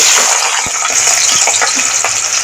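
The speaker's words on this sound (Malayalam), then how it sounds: "അതിന് നമ്മൾ കുറച്ച് വെളിച്ചെണ്ണ വെച്ച് ചൂടായിട്ടുണ്ട് അതിലേക്ക് നമുക്ക് സവോള" Onion sizzles loudly in hot coconut oil for a Kerala fish curry, a dense, continuous hiss with a few soft knocks of stirring underneath.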